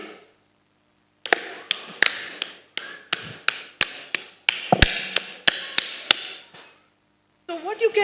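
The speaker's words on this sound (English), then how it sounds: "Now I'll do one clap and two claps" Sharp hand claps in a clapping rhythm game, a quick series of crisp, close claps grouped in singles and pairs after a short pause, with a voice briefly heard at the end.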